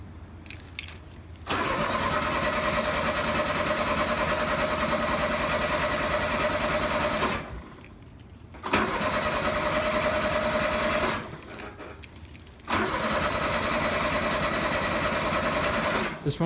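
Engine cold starting after sitting about three weeks in 43-degree windy weather, a loud running engine heard in several long stretches separated by short quieter gaps.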